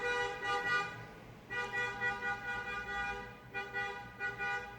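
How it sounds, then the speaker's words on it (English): Car horns beep outside in the street, a string of sustained honks in bursts with short gaps, fairly loud and continuous through the moment. "I don't know why people have to beep their horns like that during my show."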